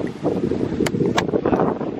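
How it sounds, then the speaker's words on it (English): Strong wind buffets the microphone in low rumbling gusts outdoors at night overlooking the Las Vegas Strip, with a couple of brief high-pitched clicks. "Hopefully y'all can hear us because it is windy."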